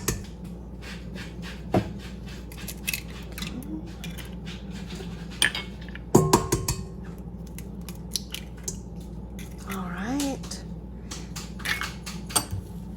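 A utensil beats two eggs in a bowl for a pumpkin pie filling, giving quick irregular clinks and taps against the dish, with a sharper knock midway and a brief scraping flurry later, no talking.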